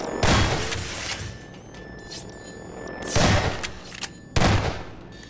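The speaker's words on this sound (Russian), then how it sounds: "два выстрела дробовика" Shotgun blasts in the video game Half-Life 2 on hard difficulty, three loud booming shots spaced a second or more apart, each followed by a short rumbling tail, with no talk over them.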